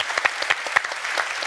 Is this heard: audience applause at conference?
yes